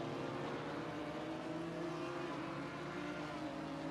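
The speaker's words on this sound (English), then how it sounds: "The sound of this car is not as appealing as the sound on a GT3." GT4 race car in Assetto Corsa Competizione, racing at Zolder, its engine droning steadily and loudly throughout with no talk over it.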